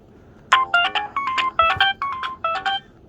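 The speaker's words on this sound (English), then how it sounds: "I like the ringtone." A mobile phone ringtone plays a quick series of bright electronic beeping notes in a steady rhythm, close and clear against near silence.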